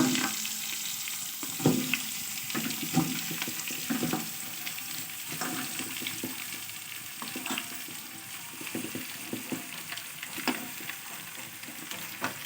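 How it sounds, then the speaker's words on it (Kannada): Chicken sizzles in a pan with a spoon of oil and fresh curry leaves for a village-style country chicken curry, a steady frying hiss broken by irregular stirring clatters. "ಚಿಕನ್ ಬೇಯಕ್ಕೆ ಹಾಕೋಣ."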